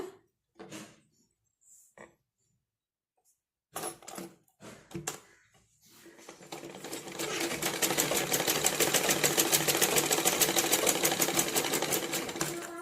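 A sewing machine stitches a cross piece onto a blouse neckline, running in a steady, rapid close-up rattle after a few scattered handling clicks and taps.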